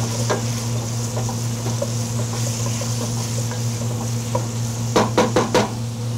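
Carrots and garlic sizzle steadily in a pan, a continuous close frying hiss over a low hum, with a quick burst of stirring clatter near the end.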